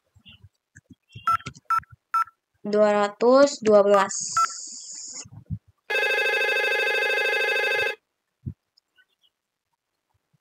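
An IP phone on a network switch dials a number: a few quick key beeps and a short spoken number, then a steady electronic ring tone lasting about two seconds, heard close up in a quiet room.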